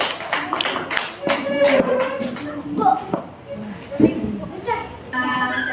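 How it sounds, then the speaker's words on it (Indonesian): A classroom group of students claps for a presenting group, quick scattered claps mixed with children's chatter and a voice speaking nearby. "Tepuk tangan untuk kelompok 1"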